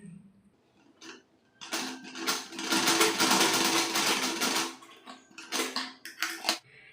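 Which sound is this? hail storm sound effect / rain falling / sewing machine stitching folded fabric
sewing machine stitching folded fabric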